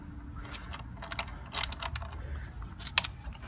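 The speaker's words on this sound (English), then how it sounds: "With the help of 10 millimeter socket, you would want to open them up." A 10 mm socket ratchet loosens bolts on a Hyundai Sonata during a spark plug change, giving soft clicking and metallic ratcheting in a few short bursts, close by and fairly quiet with no talk.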